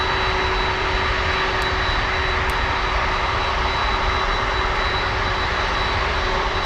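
A Boeing 767 jet taxiing toward the runway at Miami International Airport, its engines giving a loud, steady, continuous roar close by for the whole stretch.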